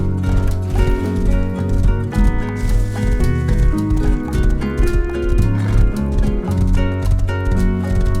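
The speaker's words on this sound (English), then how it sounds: "So I grabbed a horse and I made the long journey." Horse hooves pounding in a fast galloping clip-clop rhythm in the Rust video game, loud and continuous with occasional whinnies over a game soundtrack.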